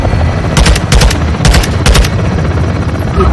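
Modern Warfare 2 combat: four loud bursts of rapid automatic gunfire over a dense, rumbling bed of explosions and battle noise, steady and close throughout.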